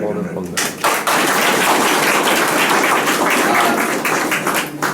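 Audience applause in a hall after a nomination speech for the Goodwill Ambassador of the Bangladesh National Cadet Corps, a dense sustained clapping that starts abruptly and fills the room.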